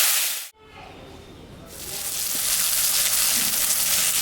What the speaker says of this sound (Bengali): আলু বেগুন দিয়ে বাটা মাছটা